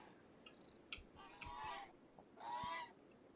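Geese in RimWorld honk in a few short bursts, faint and somewhat distant, with two longer nasal honks separated by brief pauses and a couple of soft thumps.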